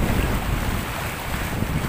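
Sea waves crash and wash against the rocky shore at Barangay Pagkilatan, Batangas City, under a steady roar of wind buffeting close by.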